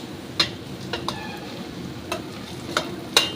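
Spices, including cardamom, fry in a pan for mutton pulao under a steady close sizzle, with a few sharp pops and clicks as a spoon stirs them.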